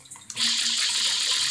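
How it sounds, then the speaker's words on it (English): Water spraying in the Super Mario Sunshine video game: a brief splash, then a steady, loud hissing rush of sprayed water that carries on to the end. "I can shoot the water."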